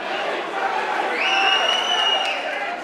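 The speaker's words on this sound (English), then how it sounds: "the crowd are on their feet at the Reggio Calabria Club" A boxing crowd at the Reggio Calabria Club roars and cheers on its feet during a bloody fight, a dense, steady wall of crowd noise with a rising whistle-like tone partway through, under an excited commentator's voice.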